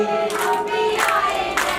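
Congregation clapping hands at a jagran devotional gathering, three or four loud rhythmic bursts of many hands, with a faint voice in the background.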